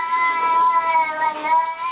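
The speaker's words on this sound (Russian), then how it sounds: "Кот по кличке Голд с утра не в духе. Он занял оборону в дверном проеме" An angry cat yowls from a doorway, a loud, close, sustained harmonic wail that wavers in pitch for about two seconds without pause.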